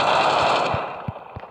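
Call of Duty gunfire comes as a short automatic burst that fades into a few separate low thumps, loud and close, with no voices.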